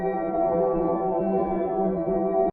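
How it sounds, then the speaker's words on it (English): A sustained synth bass built by pitching up an alien beam sample with FM synthesis and a saw wave, holding as one thick, buzzing, harmonically rich tone for about two and a half seconds before cutting off abruptly. "I want to show you the bass that I made with the alien beam."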